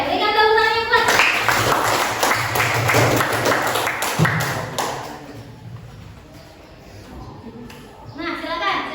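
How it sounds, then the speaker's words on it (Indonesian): A class of Year 10 students gives a loud round of hand clapping, dense and rhythmic for several seconds before fading, with a teacher's voice talking over it and at the end. "Oke, berikan tepuk tangan yang kuat."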